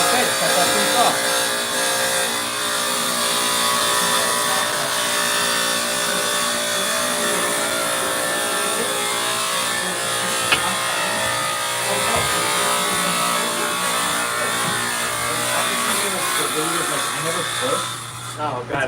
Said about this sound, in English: So it's just the weight of the blade, just the grinder.